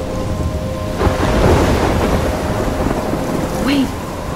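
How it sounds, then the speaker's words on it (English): Heavy rain pours steadily during a thunderstorm in Life Is Strange, with a deep rumble of thunder swelling in the middle and a brief whistling gust near the end, loud and close. "I'm trapped in a storm?"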